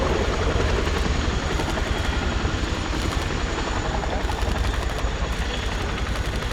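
Boeing Chinook HC6 twin-rotor helicopter reversing backwards down the runway at the RIAT 2022 air display, a steady, powerful rotor and engine roar throughout, with a commentator talking over it.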